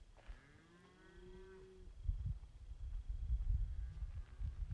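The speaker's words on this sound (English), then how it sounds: "I'm gonna go find the cow." A cow moos in a long, drawn-out call lasting nearly two seconds, fairly clear and moderately near, followed by low rumbling outdoor noise.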